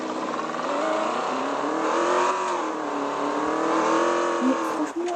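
A Range Rover in Taxi Sim 2020 revs with a smooth, steady engine hum that climbs and holds in pitch, loud and continuous, with a small blip near the end.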